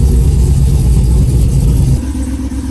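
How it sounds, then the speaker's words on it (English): Cars are backed out of a performance shop, a loud, close rumbling engine that holds steady and then eases to a lower idle near the end. "They're backing cars out, moving some hot builds"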